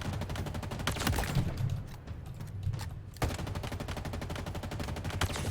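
Assault rifle in Halo Infinite firing in long, rapid automatic bursts with a brief lull in the middle, loud and continuous with no voices.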